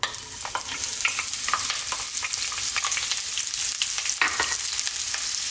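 Onions fry in oil in an emptied pan, producing a continuous close sizzle with crisp pops and crackles throughout, no talking.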